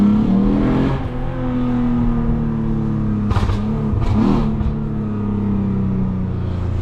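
The catless Lexus IS250 engine revs as the car accelerates on a night drive, a loud close exhaust note whose pitch climbs and shifts with brief sharp bursts in the middle.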